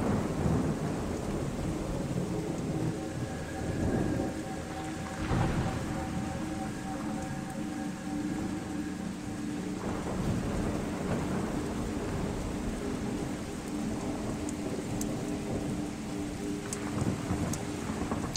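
A huge thunderstorm in the video game ICO, with continuous heavy rain and repeated low thunder rumbles rolling through at a steady, moderate level.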